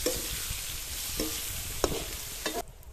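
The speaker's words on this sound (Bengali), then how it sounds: "পেঁয়াজ চলে যাবে। নাড়াতে থাক।" Onions fry in a pan for crab curry, a steady sizzle with a few scraping strokes as a spoon stirs them.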